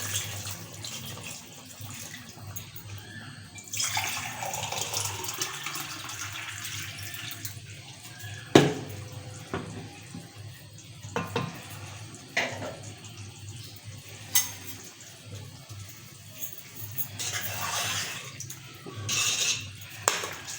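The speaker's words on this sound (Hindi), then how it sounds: "यहाँ मैंने 2 गिलास इसमें पानी डाला है।" Water being poured into a cooking pot of aloo gosht, a steady splashing pour with clinks of the metal pot and utensils, close and fairly loud, no talking.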